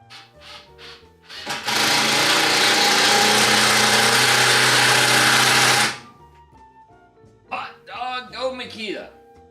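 A Makita power drill drives a 2-inch screw into wood in one continuous whirring run of about four seconds, loud and close, with someone talking briefly before and after.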